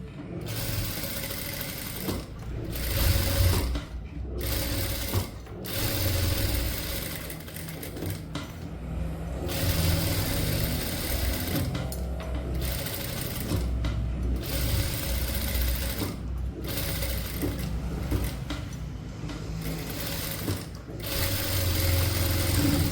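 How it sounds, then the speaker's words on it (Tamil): A sewing machine stitches a blouse neck at slow speed, running in a close, steady mechanical whir with short pauses and restarts and no talking. "நெக்கு தைக்க போகிறீங்க ஸ்லோ ஸ்பீடில்."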